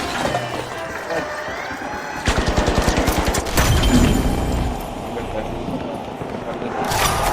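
Gunfire in the shooter The Finals: a rapid burst of automatic shots, then further bursts and impacts, with a voice talking over the game sounds.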